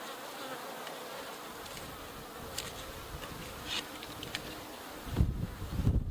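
Honey bees buzz around an open hive frame being inspected, a steady close swarm drone with individual bees flaring past and some handling noise toward the end.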